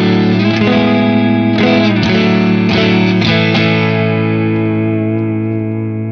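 Yamaha Pacifica electric guitar on the neck pickup with a warm, lightly overdriven tone, chords and notes ringing out loud and sustained, several strums then a long fading decay.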